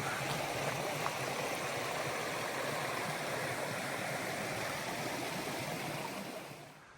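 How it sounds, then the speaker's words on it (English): A creek in Pisgah National Forest rushes steadily over rocks, a loud close continuous wash of water that holds unbroken before easing off at the very end. "We do have our first creek crossing here. I believe we can slide across these big rocks here and avoid getting wet."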